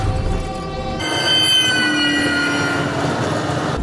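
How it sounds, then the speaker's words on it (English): A train rolls by close and loud, steady rumbling with high metallic squealing tones from the wheels layered over it. "let me wait for the train"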